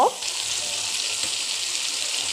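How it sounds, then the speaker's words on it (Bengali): Steady, loud sizzling of food frying in hot oil, a continuous hiss with no one speaking. "কিছুক্ষণ ভাজা হলে"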